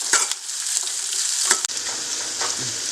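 Green chillies sauté in a pan for a wheat and onion dosa, giving a steady sizzling hiss with a few clinks of stirring; close and fairly loud, no talking.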